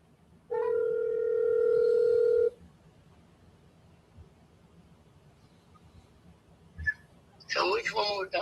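Outgoing telephone call ringing on the line, a single steady electronic ring tone lasting about two seconds, then quiet line hiss, a short beep, and a voice near the end.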